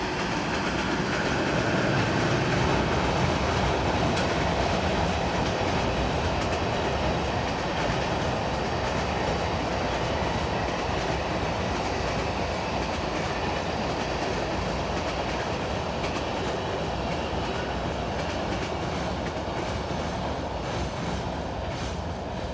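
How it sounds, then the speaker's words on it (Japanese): A freight train on the Kagoshima Main Line, service 5052 bound for Tokyo Freight Terminal, rolls past close by with a loud, steady roar and continuous wheel clatter for over twenty seconds, no voices. "5052列車東京貨物ターミナル行きです。"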